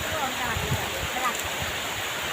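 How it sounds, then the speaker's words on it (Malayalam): Rain falls outdoors during a jackfruit harvest, a continuous even hiss with faint low thumps and scattered murmurs underneath. "അപ്പോൾ ഇത് മഴയാണ് കേട്ടോ"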